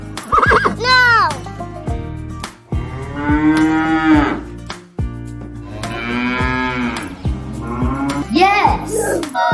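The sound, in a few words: cow mooing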